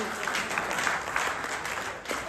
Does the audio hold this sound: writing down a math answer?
no